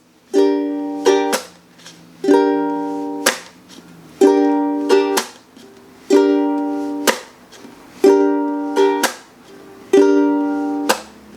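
Repeated ukulele strumming in a steady down, up, chuck, down, chuck pattern, bright chords punctuated by sharp, heavy percussive muted chucks, played alone and close.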